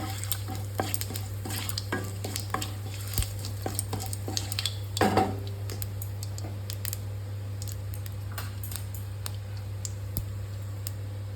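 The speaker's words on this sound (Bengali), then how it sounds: "দিয়ে দিয়েছি তেজপাতা আর গোটা জিরে ফোড়নে" Bay leaves and whole cumin seeds sizzling in hot oil as a tempering for a taro curry, a steady close crackle with scattered sharp pops and a brief louder stir midway.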